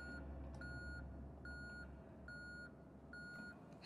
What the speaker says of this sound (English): It seems to beep in this room.